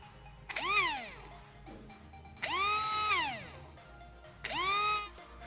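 A 555-type 12V DC brushed motor revved at higher speed gives three rising-and-falling high whines, each lasting about a second, close and fairly loud, with short quieter gaps between them.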